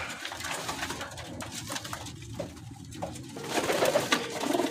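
Pigeons, tall well-boned pedigree birds, coo and rustle close by in a loft, with a steady busy wash of bird calls and movement building louder toward the end.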